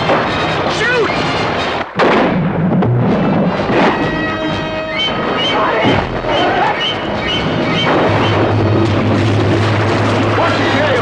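Gunshots fired at a shark from a boat at sea in the film Jaws, loud booming blasts amid a dense, chaotic film soundtrack with shouting voices and music throughout.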